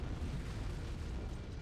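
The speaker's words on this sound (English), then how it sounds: "It must have been one of their boarding parties. I'd guess an antimatter charge." A deep, sustained roar from an antimatter charge exploding aboard a ship in Halo CE fills the whole moment at a steady level, dense and heavy with no clear onset or decay, and nobody speaks.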